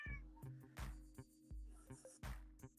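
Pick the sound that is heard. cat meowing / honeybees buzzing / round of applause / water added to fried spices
cat meowing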